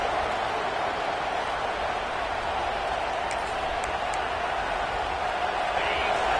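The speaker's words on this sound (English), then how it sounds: "how nice is it to have the home crowd going absolutely bananas?" A home crowd at a college football game roaring in a steady, loud, unbroken wall of cheering and noise, with a commentator's voice faintly underneath.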